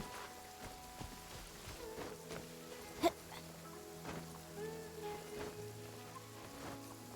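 Soft rain falling in the Genshin Impact video game, a faint, steady patter spread beneath gentle tonal game music, with one brief brighter tick partway through.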